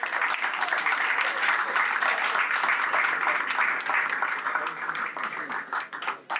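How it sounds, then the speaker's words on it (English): Park staff and guests at a parks awards ceremony clap steadily, a dense even patter of many hands held at full strength for about six seconds before thinning out, with some voices mixed in. "Give yourselves a big round of applause."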